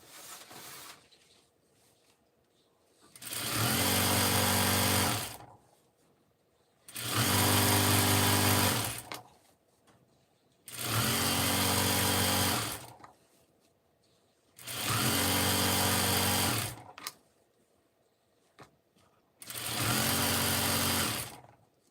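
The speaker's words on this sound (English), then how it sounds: "I just keep sewing." Overlapping fabric pieces run through a sewing machine in five even bursts of fast, close whirring, each about two to three seconds long and separated by short quiet pauses.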